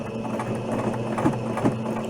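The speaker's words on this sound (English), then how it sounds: "This time I'm going to sew a little, and then I'm going to use my back stitch to sew back" A sewing machine stitches a fabric face mask, running forward then switching to back stitch to lock the seam, a steady close mechanical whir with a couple of brief heavier clunks.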